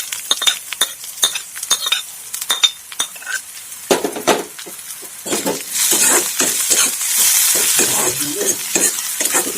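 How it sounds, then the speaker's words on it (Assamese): Half-fried onions sizzling in a pan as ginger garlic paste is added for a pork curry, with loud, close stirring and utensil scrapes over a steady frying hiss that swells toward the end. "পিঁয়াজখিনি আমাৰ আধা ভজা হৈ গৈছে, তো আমি এতিয়া দি দিম ইয়াত আদা নহৰু পেষ্টখিনি।"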